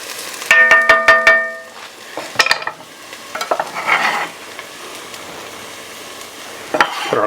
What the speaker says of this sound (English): these onions are beginning to brown up a little bit.